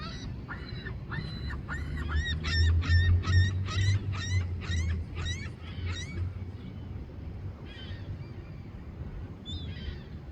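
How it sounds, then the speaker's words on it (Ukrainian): A flock of geese in Calgary, Canada honks repeatedly in a quick, rhythmic series, then a few scattered calls follow, somewhat distant over low wind-like rumble. "Тут десь є гуси."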